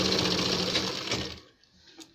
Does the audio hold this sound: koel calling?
no